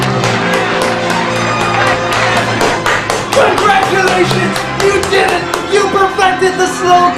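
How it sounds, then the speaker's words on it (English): Slow clap in a 90s sports-movie montage parody: separate, distinct claps spaced out over dramatic orchestral music, with a hint of crowd sound under it. "I did the slow clap!"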